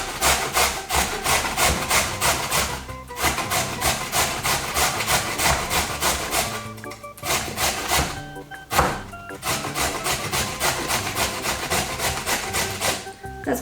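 A carrot is grated on a hand grater in rapid, rhythmic rasping strokes, close and loud, broken by a few short pauses.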